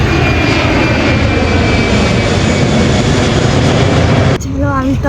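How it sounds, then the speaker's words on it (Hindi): Airplane jet engine roar heard from outside an airport, a loud, steady broadband rumble and whine that continues for several seconds before cutting off abruptly, followed by a brief voice. "कुछ ही देर चलने के बाद एयरपोर्ट के बाहर पहुंच गए और इसको एरोप्लेन की आवाजें सुनाने लगी।"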